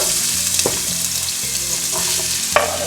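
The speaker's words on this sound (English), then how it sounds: "we are going to add our onions and the salted fish at the same time in our oil." Onions and salted fish frying in hot oil for a Ghanaian bean stew, a loud, steady sizzle close by with a few sharp stirring clicks against the pan.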